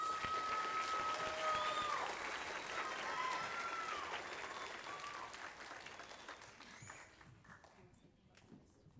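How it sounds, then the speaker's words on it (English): Applause from the crowd at a spring school band concert, with a few whistles and cheers over the clapping at first, then gradually dying away into quieter scattered claps. "let's give our 3rd period one more round of applause"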